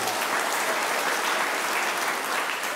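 A congregation claps steadily at a Catholic opening Mass in St. Luke's Church, Oloitoktok, a dense, even roar of many hands sustained and fairly loud throughout, with no voices rising above it.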